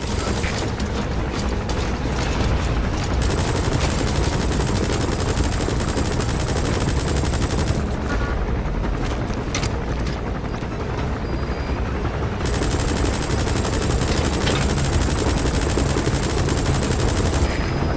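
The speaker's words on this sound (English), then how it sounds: "That's an enemy gunship." An enemy gunship in Metal Gear Solid V keeps up sustained, dense machine-gun fire with a heavy rotor drone underneath, loud and continuous, with brief impact crackles.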